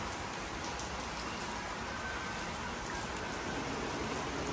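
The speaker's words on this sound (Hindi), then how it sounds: "बाहर बारिश स्टार्ट हो चुकी है" Rain falling outside a home during an early-morning downpour, a steady, even hiss of drops on surfaces that continues unbroken at a moderate level with no talk over it.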